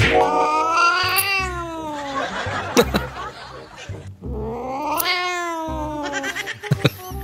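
A cat lets out two long, drawn-out meows that rise and fall like caterwauls, close and loud, separated by a gap with soft laughter and chuckling in between.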